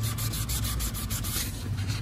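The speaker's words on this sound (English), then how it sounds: "You literally sand down that piece of clear until you're at the bare metal." Wet sanding with 600-grit sandpaper takes the peeling clear coat off an aluminum wheel, making a steady, close, continuous rubbing scrape for the whole two seconds with no talk.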